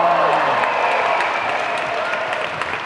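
Audience applause at a teachers-versus-students contest in a school gym, a busy mass of clapping with a voice talking over it at the start before the clapping carries on alone.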